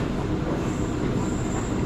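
An executive-class KA Parahyangan carriage on the Gambir run rides roughly, giving a steady, loud rumble of wheels and body noise with faint high squeal and no talking throughout.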